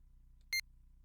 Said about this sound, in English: if it is less than 2, like pressing up from here, it beeps at you